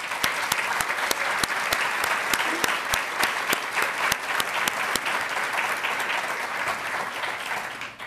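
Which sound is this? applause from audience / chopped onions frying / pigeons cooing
applause from audience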